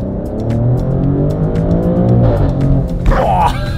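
A Maserati SUV engine rumbles and revs through a new modified centerpiece exhaust, a deep throaty drone rising in pitch, with a voice briefly speaking over it.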